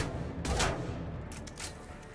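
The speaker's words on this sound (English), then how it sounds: "No, I gotta shoot it." Gunshots fired at a latch in Mass Effect 3, a couple of moderately loud blasts, one fuller shot followed by several quicker cracks over steady game background noise.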